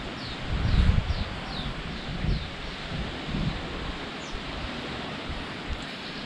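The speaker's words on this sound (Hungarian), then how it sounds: "És milyen szeles lett." Gusty wind buffets the microphone on a cloudy, blustery day at a Greek beach, with surf washing steadily underneath; louder rumbling bursts come early, then the broadband roar settles into a constant hiss.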